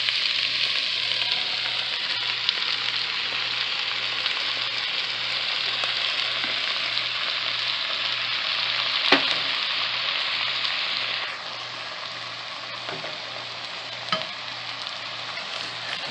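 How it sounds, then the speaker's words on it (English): Beef and potatoes fry in guajillo chile sauce, a steady close sizzle lasting throughout while being stirred, with a few soft utensil taps and the hiss easing slightly near the end. "Give it a stir."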